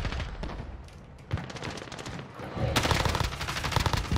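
Rapid bursts of gunfire in Call of Duty: Warzone Zombies crackle continuously, growing denser and louder in the second half, with dense noise and no talking.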